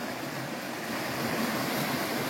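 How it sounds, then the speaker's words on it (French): A small mountain stream flows beneath a bridge in the village of Formiguères, giving a continuous close wash of water with no pauses. Nobody speaks. "Ah bah c'est pas une rivière, c'est un ruisseau carrément."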